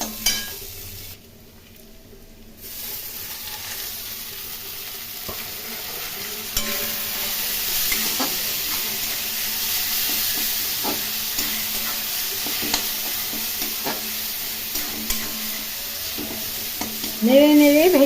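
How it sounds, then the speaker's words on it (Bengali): Onions frying in a pan with little oil, a continuous close sizzle under intermittent stirring scrapes and spatula clinks, without talk. "পেঁয়াজগুলো আমি ভেজে নিচ্ছি।"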